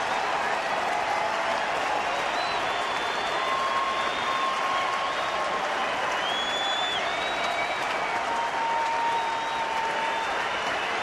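A sellout crowd of nearly 40,000 at Target Field for a baseball game stands and applauds, a broad, steady roar of clapping and cheering from the stands, with a voice faintly audible beneath.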